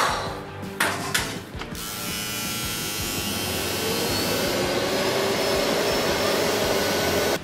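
An electric hair clipper with a built-in vacuum switches on after a few clicks and handling noises, then runs with a steady, loud motorized whir and suction hum that continues evenly to the end.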